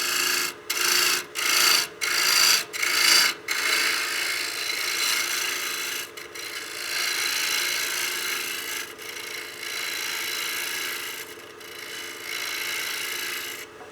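A wood lathe tool cuts a tenon on a turned utility box blank, giving a series of short rasping bursts at first, then a continuous scraping hiss of material coming away, close and unvoiced.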